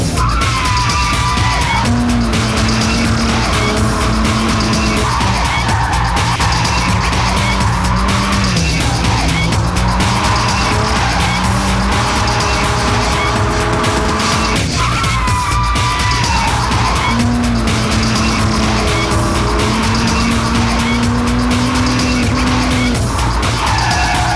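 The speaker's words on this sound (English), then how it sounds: "About to take me on my first drift." A bright green drift car slides hard at close range, its tires squealing loudly and continuously over a roaring engine in long sweeping waves, with occasional yells mixed in.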